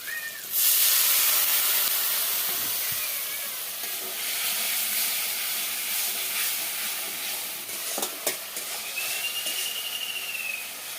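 Water poured into a hot pan while cooking a rui fish curry bursts into a loud, sustained steaming hiss that eases slightly but carries on, with a few faint clinks and pops of utensils.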